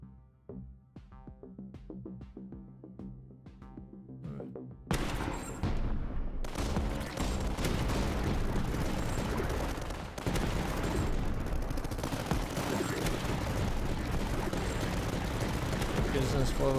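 Dense, continuous gunfire from many small defensive guns in the strategy game Tower Dominion: soft game music plays at first, then a loud, steady barrage of rapid shots and blasts runs without a break.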